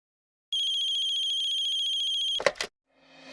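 A telephone rings in one steady, continuous electronic tone lasting about two seconds, loud and close, cut off by a brief clatter as it is picked up, followed by faint room noise.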